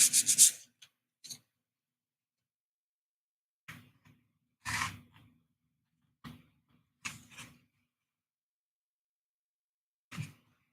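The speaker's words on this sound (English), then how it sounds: "Let's give that edge a little bit of a chamfer." A wooden edge is sanded to a chamfer by hand in short separate rubbing strokes, a few quick scrapes followed by pauses, close and fairly quiet.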